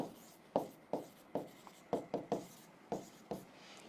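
A name being handwritten, with close scratchy pen strokes coming in a quick irregular series of short bursts.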